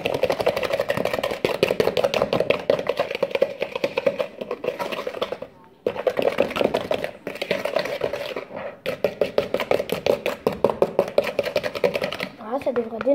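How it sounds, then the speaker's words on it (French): Tiramisu batter with vanilla sugar being mixed until pale, a rapid steady whirring and clattering from a whisk or mixer, loud and continuous with a brief pause midway. "on mélange jusqu'à ce que le mélange blanchisse"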